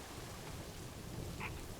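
Steady, soft rain hiss in the zoo-building game Planet Zoo, a continuous wash of falling rain with no other distinct sounds.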